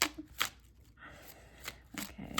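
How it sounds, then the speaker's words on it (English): Tarot cards shuffled by hand, several quick riffling bursts and soft slaps spread unevenly across the moment, close and crisp with no talking. "this is the most calm the shuffle has been for all these readings"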